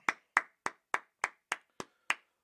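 Eight sharp, evenly spaced claps ring out over two and a half seconds, a steady rhythmic beat from a gathered audience at a Wednesday night class, close and crisp with no talk.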